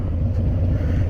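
Harley-Davidson motorcycle fitted with a Captain Itch leather heat shield, riding on the road: a steady, loud low engine rumble with wind buffeting, continuous and unbroken throughout.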